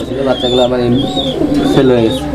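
A pair of grizzle racing pigeons cooing up close, soft throaty coos repeating in a low rolling rhythm, with a faint higher whistle-like tone above and some background noise.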